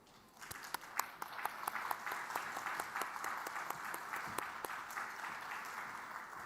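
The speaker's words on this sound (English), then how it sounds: "Let us welcome them to the stage with a big round of applause" A crowd at a defense forum opening ceremony applauds steadily as the moderator and panelists are welcomed to the stage, a dense wash of clapping with a few sharp individual claps standing out, sustained at moderate level throughout.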